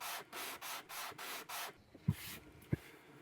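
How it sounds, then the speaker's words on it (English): 220-grit sandpaper on a small sanding block rasps against wood on an archtop guitar, flushing purfling, in six even back-and-forth strokes, close by, followed by a couple of light knocks. "This is 220 sandpaper, and I don't really care which way I go with it"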